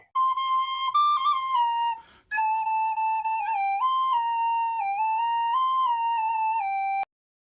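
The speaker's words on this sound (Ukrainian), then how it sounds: "А так співає ніжна сопілочка" A sopilka, a clear, breathy wind instrument, plays a gentle melody of held and shifting notes, pausing briefly once, then ending abruptly.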